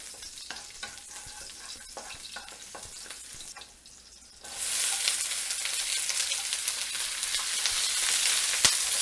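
Garlic hitting hot oil in a pan for Chinese-style bok choy: quiet stirring at first, then a loud, steady, bright sizzle that bursts in about halfway through and keeps hissing to the end.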